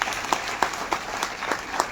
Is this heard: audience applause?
yes